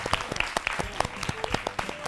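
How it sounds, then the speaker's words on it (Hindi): Classroom applause from a group of students on a fun-learning show, a burst of quick, dense clapping that runs steadily for about two seconds at moderate level. "तालियां।"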